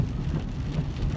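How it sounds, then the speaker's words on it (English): Steady rain falling at night, a soft even patter with a low rumbling undertone, continuous and moderately quiet with no voices. "And it's raining,"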